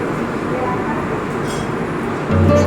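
Steady low rumble of a moving train near Bareilly Junction on a Varanasi to Haridwar journey, continuous throughout with a slight rise at the end; no talking.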